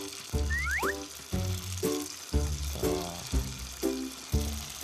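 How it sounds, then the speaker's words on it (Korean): Tofu sizzles in hot frying oil at about 100 to 120 degrees, with a steady crackle and a run of repeated clunks and taps at roughly one-second intervals, plus a few brief squeaks early on. "자, 한번 튀겨보겠습니다."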